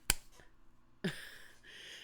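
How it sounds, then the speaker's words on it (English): A hand slaps the skin twice with sharp single smacks about a second apart, the second followed by a faint hum of room noise. "I slapped myself"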